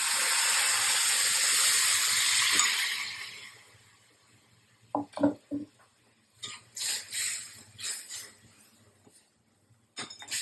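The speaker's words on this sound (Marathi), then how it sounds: "थोडं गरम पाणी टाकूया" A loud sizzling hiss bursts up as hot water hits a pan of roasting flour, then fades away, followed by a few soft clinks and scraping sounds.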